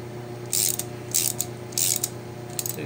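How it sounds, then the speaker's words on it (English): Ratcheting clicks from a wrench tightening the inner screw that holds a kart's brake lining, coming in three close, crisp bursts with a shorter fourth at the end, over a steady low hum. "He's tightening up the inner screw that holds the brake lining on."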